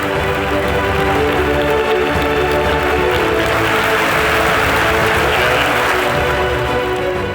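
Applause at a panel discussion on NFTs and marketplaces: a sustained, loud wash of many hands clapping evenly from start to finish, with no gaps.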